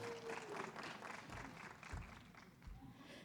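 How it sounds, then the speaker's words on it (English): Faint, scattered applause from a small audience at a medical conference session on treating hidradenitis suppurativa, light clapping with some low thumps and a voice partly under it. "A large round of applause for Dr. Tracy Kimbali."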